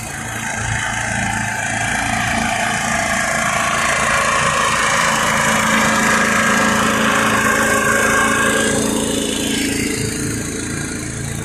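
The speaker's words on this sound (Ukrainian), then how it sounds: "Працює генератор, нічого не чуть." An electric generator runs outside a fabric shop, a loud, constant engine drone holding steady at close range throughout.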